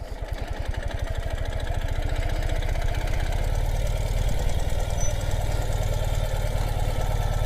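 Ural CT sidecar motorcycle engine idling with steady low thumping pulses, the clutch let out so it drops into gear and pulls away, engine note holding loud and close throughout.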